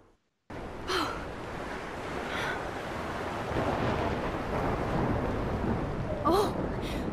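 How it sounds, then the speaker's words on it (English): Thunderstorm with rain in the game Life Is Strange, a steady dense roar of rain and wind that swells louder partway through, with a few gasping breaths standing out above it. "But the storm. How do we stop the storm?"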